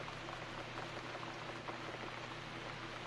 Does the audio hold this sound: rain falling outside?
yes